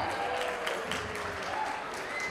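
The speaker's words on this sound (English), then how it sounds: "Can y'all give her a round of applause" Guests at a wedding reception applaud in a dense, continuous burst of clapping that stays steady and fairly loud throughout, with crowd murmur beneath.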